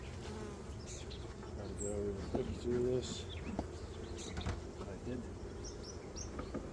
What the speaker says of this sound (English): You can hear them buzzing right now